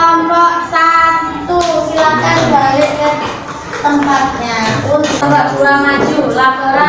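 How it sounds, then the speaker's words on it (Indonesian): Classroom applause for a student group, a burst of clapping hands from a class of students mixed with children's voices chattering over it, fairly close and loud throughout. "Kasih tepuk tangan untuk kelompok 1."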